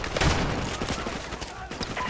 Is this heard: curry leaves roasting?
no